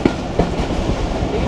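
The Tungipara Express runs on its rails with a steady low rumble and rhythmic clickety-clack of the wheels, heard from inside the train with a faint voice beneath the noise.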